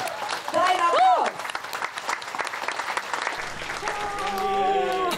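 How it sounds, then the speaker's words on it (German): An audience applauds a singer's performance on a cruise ship, a lively burst of clapping that carries on under loud talk and cheering voices. "Dein Applaus."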